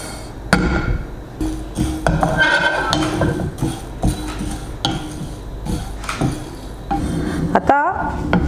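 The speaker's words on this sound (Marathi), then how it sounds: "हे छान आपल्याला खरपूस असे बारीक गॅसवरती भाजून घ्यायचे आहेत" Coriander seeds roast in a pan over a low gas flame, a spoon scraping and clinking against the metal in steady, repeated strokes, close and fairly loud.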